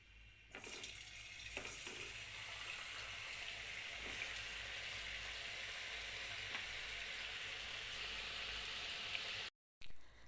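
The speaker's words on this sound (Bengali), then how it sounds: "এবার আমি ভাজবো।" Mung bean puli pitha fry in hot oil with a strong, unbroken sizzling hiss, a few faint clicks at the start and a short cut near the end.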